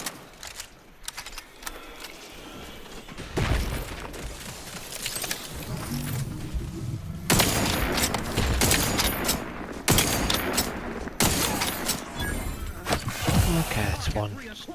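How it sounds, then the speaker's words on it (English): Enemy sniper fire in The Outer Worlds 2, a series of sharp shots and impacts over several seconds amid game ambience, with someone talking throughout. "there's one over there shooting at me now."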